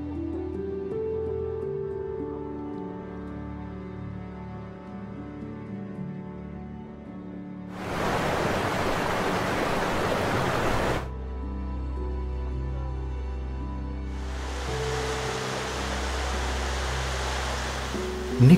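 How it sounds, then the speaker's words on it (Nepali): A river rushes through the Chhumo valley in Nepal, heard as a steady hiss of flowing water in two stretches over soft, sustained background music. "म तल बग्दै गरेकी नदी निहालेर बसेको छु।"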